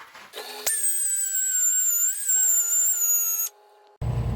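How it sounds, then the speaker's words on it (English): A power sander works a sycamore salad bowl at 80 grit, a loud high-pitched whine that starts abruptly, shifts pitch partway through, then cuts off near the end before a brief burst of noise. "So we're going to power sand."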